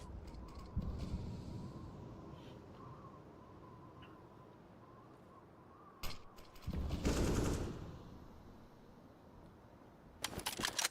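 Gunfire in a competitive shooter video game: a few sharp shots and a short burst crack out over a low, steady game background, fairly close and moderately loud.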